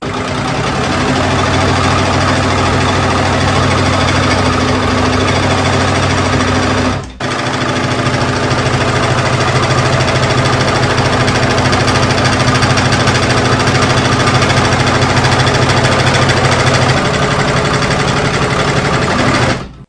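An embroidery machine with a magnetic hoop frame stitches a padded dog collar, its loud, rapid needle chatter running almost continuously with one brief pause near the middle.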